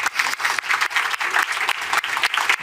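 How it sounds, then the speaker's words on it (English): An audience at an R&I event applauds, steady close clapping from many hands with a slightly pulsing rhythm throughout. "So I think he deserves another round of applause."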